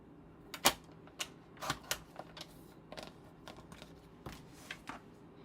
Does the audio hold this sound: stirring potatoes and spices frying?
no